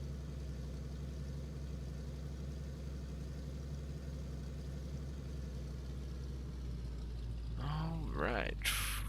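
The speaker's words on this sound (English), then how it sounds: "We'll just enjoy the nice car sounds." A Jeep engine in a video game idles and runs with a steady low rumble and hum, fairly quiet and constant, and a voice cuts in near the end.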